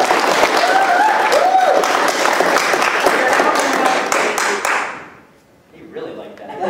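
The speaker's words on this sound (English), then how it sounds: "If we could just give a round of applause for Rob." Loud audience applause at the interval of a one-man show, dense clapping and cheering that fades out near the end before a brief pause.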